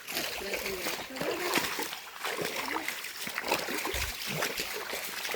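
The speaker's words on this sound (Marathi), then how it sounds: "याचं थोडंसं पाणी वाहतं, पण पावसात ना या पूर्ण भरलेला असता" A small stream in a quiet forest trickles and splashes close by, uneven sloshing water that runs throughout while a person talks over it.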